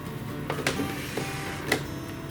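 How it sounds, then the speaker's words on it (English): A sewing machine stitches the side edge of a fabric pouch, giving a close, steady mechanical whir with a few sharper clicks. "fold our fabric in half and sew the side edge and across the bottom"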